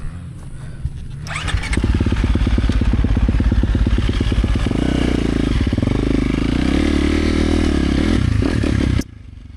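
A dirt bike, either a 2023 KTM 350 XCF or a 2024 Yamaha YZ450FX, riding laps: the engine fires and then revs loud and close with throttle changes and rough clatter, holding steady before cutting off at the end.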